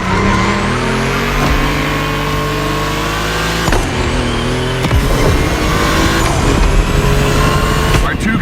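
Volkswagen cars racing on a track in The Crew Motorfest, engines droning steadily with rising revs and gear shifts, loud and continuous throughout, with a voice talking over them.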